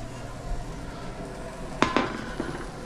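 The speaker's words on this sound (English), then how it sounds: "I'm going to grab" A skillet handled in a home kitchen while eggplant fries for parmesan, low background hiss broken by two sharp metallic clanks near the end and a lighter knock after, close by.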